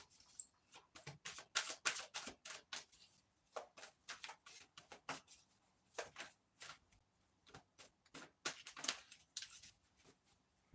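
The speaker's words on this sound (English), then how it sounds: "Give me 3 more cards, Spirit, please." Tarot cards shuffled and drawn, a long run of soft, close riffling flicks and taps in uneven bursts, quiet and dry with no talking.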